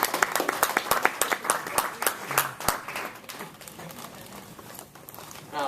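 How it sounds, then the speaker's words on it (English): Audience applause at a career talk starts as loud, distinct claps up close, then thins into softer, scattered patter that fades toward the end. "Let's give her a round of applause."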